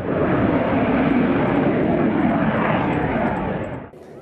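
A military aircraft at an air force exhibition for an army's 100th anniversary roars loudly and steadily, a broad engine rumble that fades out just before the end.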